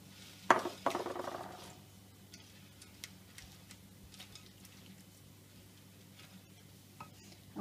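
Boondi being stirred into yogurt raita, a brief wet clatter of a spoon against a bowl at the start, then faint soft ticks and light mixing sounds, close and quiet.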